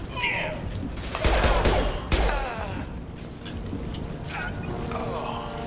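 Rapid bursts of gunfire from the Mass Effect 2 battle on Omega crackle through the fight, loud and close at first, then continuing in scattered volleys alongside clanking mechanical effects.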